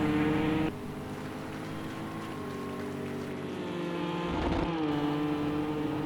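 Race cars sweep through a corner at Oulton Park, their engines droning close by with shifting pitch as they brake and accelerate out. A louder burst near the end suggests another car passing.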